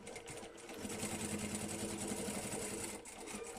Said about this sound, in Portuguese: E vou aqui fazer uma costurinha a toda a volta.